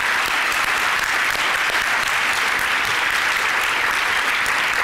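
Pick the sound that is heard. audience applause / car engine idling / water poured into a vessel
audience applause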